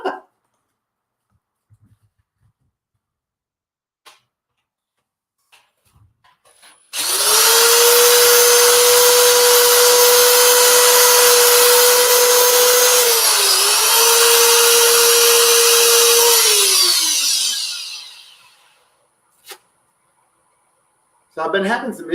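Loud, steady whine and rushing friction of wood being sanded on a spinning woodturning lathe, starting abruptly and running for about ten seconds, dipping briefly midway, then winding down, with quiet gaps and faint clicks before and after.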